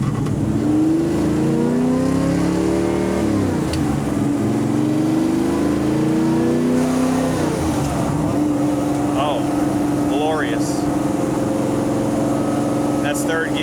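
A 1957 Chevrolet 150 cruising around 50 mph in fifth gear at about 1,700 RPM, a loud steady engine drone with shifting pitch and road rumble heard from inside the cabin, with someone talking over it.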